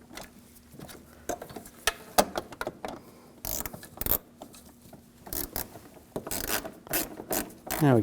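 Ratchet wrench snugging down the fog light mounting bolts on a 2007-2013 BMW 328i, a series of short close clicking bursts with pauses between, denser toward the end.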